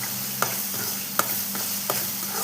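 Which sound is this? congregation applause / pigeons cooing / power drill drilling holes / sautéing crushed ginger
sautéing crushed ginger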